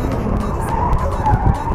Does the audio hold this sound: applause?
no